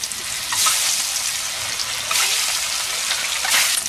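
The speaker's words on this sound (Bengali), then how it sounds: "তো ডিম ভেজে নেওয়া হয়ে গেছে" Eggs fry in hot oil in a wok, crackling and sizzling steadily with bursts of louder spatter throughout.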